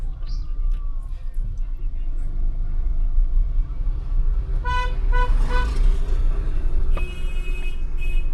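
Car horns toot and honk in short repeated bursts over a low engine rumble, from vehicles stuck in a traffic jam on the Zojila Pass mountain road at 11,649 ft in India. A longer horn blast comes near the end.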